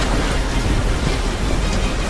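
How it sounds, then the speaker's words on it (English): A subway train pulls into a station with a loud, steady, broadband rumble and rush of air that holds for a couple of seconds. "Well, at least the subway was on time for once."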